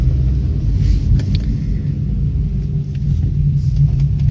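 A steady low road rumble fills a car's cabin as it drives along an esplanade in cold weather, with faint ticks and small bumps over the continuous drone and nobody speaking.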